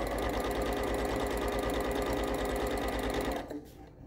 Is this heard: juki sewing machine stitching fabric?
yes